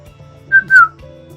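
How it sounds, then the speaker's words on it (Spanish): Two short whistled notes of Mazatec whistled speech, the second gliding downward, clear and close, sounding like a whistled phrase of speech. "El mazateco chiflado nace a través de la necesidad de comunicarnos a grandes distancias."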